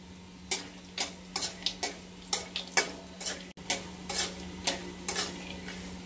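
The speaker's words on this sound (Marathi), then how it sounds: "थोडंसं आपण बदाम आणि काजू रोस्ट करून घेऊयात" Almonds and cashews roast in a pan while a spoon stirs them, producing a steady series of light, sharp taps and scrapes over a soft background hum, with no talking.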